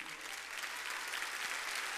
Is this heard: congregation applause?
yes